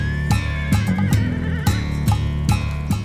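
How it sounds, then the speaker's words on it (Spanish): A draft horse whinnies in a wavering, drawn-out call over a steady low rumble, with regular rhythmic thumps recurring every half second or so throughout. "el caballo"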